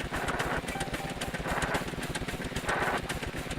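A motorcycle engine runs in the sandbox building game Scrap Mechanic, giving a fast, pulsing putter that is steady and moderately quiet, heard alone for a few seconds.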